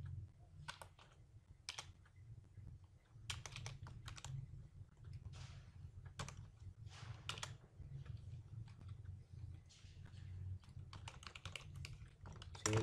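Fast, uneven keystrokes clatter on a computer keyboard while HTML code is typed, quiet and close, in irregular bursts over a low hum with no talking.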